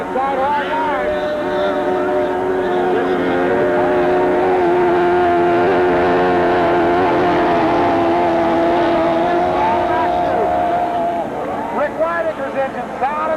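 A racing motorboat engine drones steadily at Lodi Lake during a race, its roar running continuously beneath fast, excited commentary.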